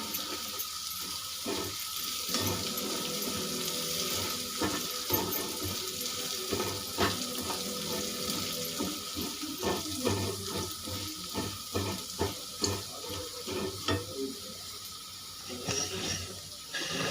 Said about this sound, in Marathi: तर 4 वाट्या पाणी टाकायचं